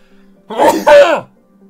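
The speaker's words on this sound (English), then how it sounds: "I'm gonna sneeze." A single loud, close sneeze, a sharp two-part burst with a voiced catch, standing alone against a quiet background.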